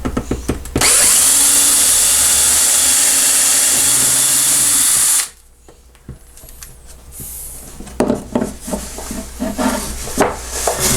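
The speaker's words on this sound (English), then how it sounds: "I finally do drill all the way through." A power drill whines loudly and steadily for several seconds while drilling through toward a bridge plate, then stops abruptly, followed by quieter handling clatter and scraping.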